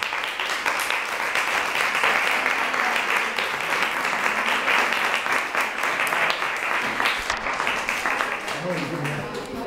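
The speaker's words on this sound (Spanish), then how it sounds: "todos nos merecemos un aplauso por todo lo que hemos hecho" A group applauds at an end-of-course gathering in Zapala: continuous, full applause from many hands throughout, with voices talking and calling out over the clapping.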